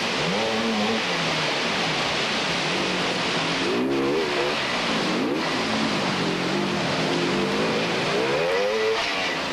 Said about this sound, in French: Eddy Lejeune sur sa moto Merlin, une moto espagnole.